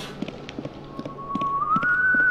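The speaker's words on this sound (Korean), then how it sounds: "저 휘파람 소리 뭐야" In the 2017 remaster of the horror game White Day, a thin whistled tone sustains and then climbs in pitch. It rises over a steady run of soft rhythmic footstep-like taps.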